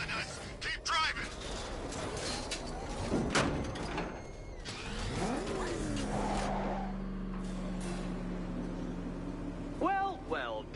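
A car racing in a chase in the Batman game Arkham Knight, with engine roar, screeching tires and mechanical clunks, a sustained engine drone midway, under tense shouted dialogue between characters.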